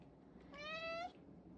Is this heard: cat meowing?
yes